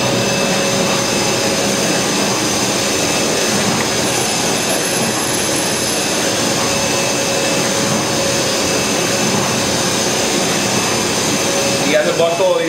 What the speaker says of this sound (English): he'll put the bottle on the carousel, on the conveyor, and we'll follow it through the machine again